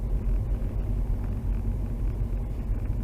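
A car on Nokian WR D4 winter tyres climbs a hill, its engine a low steady rumble with road noise, heard from inside the car, with no talking.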